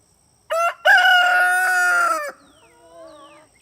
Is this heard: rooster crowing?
yes